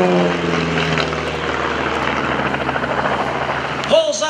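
A Van's RV light propeller plane performs aerobatics with smoke on at the 2011 Greenwood Lake airshow. Its engine drones steadily at moderate distance, mixed with some wind noise.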